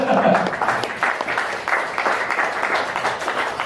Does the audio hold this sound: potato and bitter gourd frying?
no